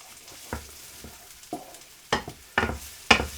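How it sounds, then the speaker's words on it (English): An onion quarter cooking in about two tablespoons of hot oil in a pan, stirred in several separate scraping strokes with a soft frying sizzle underneath, the strokes growing louder toward the end. "I'm just going to stir and fry that until it goes a little bit translucent"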